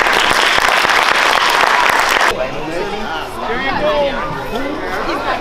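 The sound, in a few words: applause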